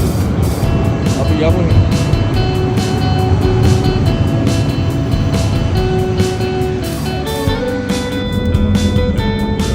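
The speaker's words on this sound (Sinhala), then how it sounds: "මෙට්‍රෝ එක ආවා." A metro tram arrives at a stop in Jerusalem, its steady loud rumble and whirring tones filling the scene with rhythmic clicks, while a person speaks briefly close by.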